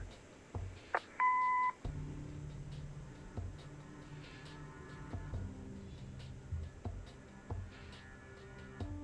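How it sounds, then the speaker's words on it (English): An answering machine beep in the Kathy Rain video game sounds once as a short, clear electronic tone, followed by low humming room tone and faint intermittent clicks and chirps. "Leave a message after the beep."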